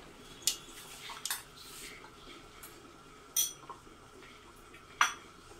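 Dinner set plates and utensils clink faintly in a home kitchen as boiled eggs are plated, a few sharp scattered taps over quiet background.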